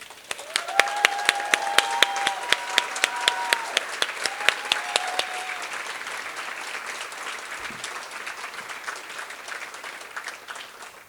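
An audience applauds an award honoree, a woman of distinction from Beloit, with steady, sharp clapping near and far plus scattered whistles and cheers early on, the clapping thinning and fading toward the end.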